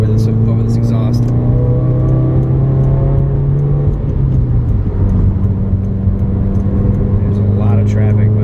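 A 2016 Subaru WRX with a Grimmspeed catted J-pipe and Greddy SP exhaust drones loudly and steadily inside the cabin while driving, its pitch dipping and settling partway through as the revs change.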